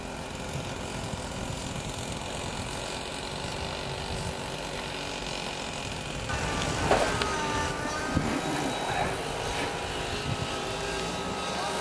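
A model airplane flies overhead, its engine giving a steady, fairly distant drone that swells a little louder partway through, with outdoor wind and no talk.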